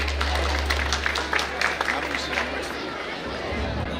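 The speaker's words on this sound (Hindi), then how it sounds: "Give a big round of applause for this team." Audience applause breaks out at a school annual function in India, a burst of many hands clapping with crowd chatter mixed in, fading to a murmur by the end.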